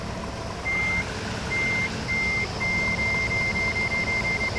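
A truck backs up while hitching to a trailer, its reversing alarm sounding a steady high beep in repeated bursts, over low engine rumble and broad outdoor noise.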